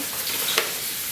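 Oxtails brown in a hot pan for braising, giving a brief, close, steady sizzle with one small pop near the middle.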